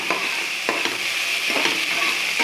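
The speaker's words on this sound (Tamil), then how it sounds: "ரெண்டு பச்சை மிளகா வெட்டி வச்ச தக்காளி நல்லா கலந்துக்கங்க" Green chillies and chopped tomatoes stirred in a hot pan for a hotel-style veg kurma: continuous sizzling with several spatula scrapes, close and without speech.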